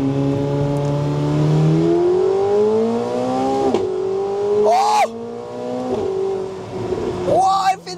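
McLaren 750S supercar with a lighter, high central single exhaust, revving loudly close by, the engine note climbing through several gear-like steps with sharp pops and crackles between rises.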